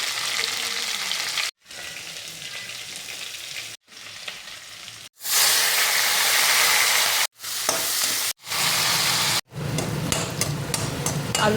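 Potatoes in hot oil give off a loud, bright sizzle in several bursts, cut by brief silent gaps, with a stronger crackling stretch near the middle and no voices.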